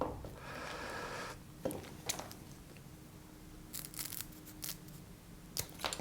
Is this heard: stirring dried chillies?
no